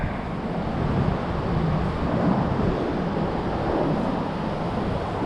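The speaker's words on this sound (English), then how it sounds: "So of course it's gotten windy." Gusty outdoor wind roars steadily across the microphone beside a dumpster, a dense, even rush of noise lasting throughout with no speech.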